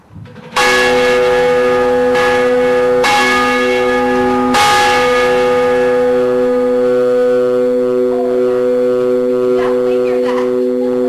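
A 157-year-old church bell in Richmond tolls three times in slow succession, each strike loud and close with a long ringing resonance that fades slowly. Faint background noises follow.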